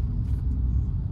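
Honda Civic FD2 engine picking up as the throttle is pressed, a short, close, deep rumble that stays even with no talking over it.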